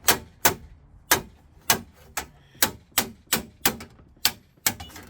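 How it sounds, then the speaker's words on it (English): A steel hammer taps sheet metal held against a dolly while tipping a radiused edge, giving about eleven sharp, ringing metallic strikes in an uneven rhythm, close and clear with no voices. "tapping the metal that's too far this way with the hammer."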